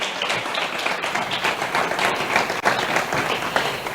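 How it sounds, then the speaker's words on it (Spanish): Steady applause from a crowd, a dense wash of clapping that holds at an even level throughout with no voices on top. "Un fuerte aplauso para él, Nada, por favor."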